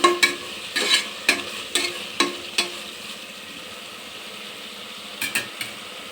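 Tomatoes and halved green chillies fry in a pan for a methi bath: a soft, steady sizzle under a run of sharp spatula scrapes and taps, then a quieter stretch before a few more taps near the end.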